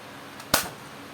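A toy Nerf double-barrel shotgun fires a foam dart at a plastic water bottle, giving one sharp, close pop against a quiet room.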